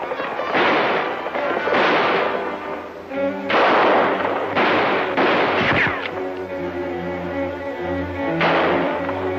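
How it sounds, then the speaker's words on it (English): Rapid gunfire in a Western shootout crackles in loud, repeated bursts of shots, some close and sharp, others echoing, over a steady background rumble. "There's only one of them shooting at us."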